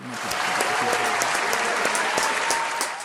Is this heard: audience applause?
yes